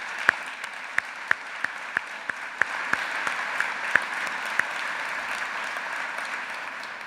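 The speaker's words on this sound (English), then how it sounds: "That deserves a round of applause." An audience at a board chair's annual review gives a round of applause, steady dense clapping close by and fairly loud, with a few sharper individual claps standing out as it carries on for several seconds.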